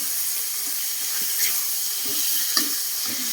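A pan hisses with a continuous loud sizzle during stir-frying in Thai cooking, with a couple of brief scraping stirs breaking through the steady frying noise.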